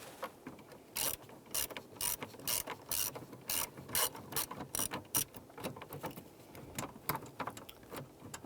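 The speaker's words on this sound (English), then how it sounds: "We're using our 7mm socket here to remove the two screws for our hood release." 7mm socket on a ratchet backing out hood release screws in a 1995-2001 Ford Explorer, a close series of sharp clicking ratchet bursts in an irregular rhythm with no talking.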